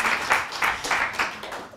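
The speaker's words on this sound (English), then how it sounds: "give her a round of applause anyway" A conference audience gives a short round of applause, clapping in loose rhythmic waves at moderate volume for under two seconds.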